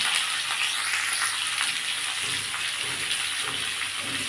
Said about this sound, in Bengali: এবার আমি এটা আমগুলো একটু ভেজে নেব